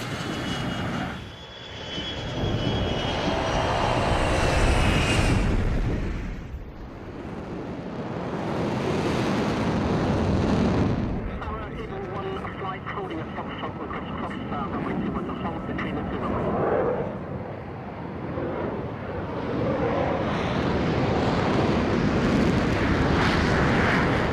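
A fighter jet takes off at Nellis, its engine roaring loud and sustained with surging swells, while radio voices talk over the noise.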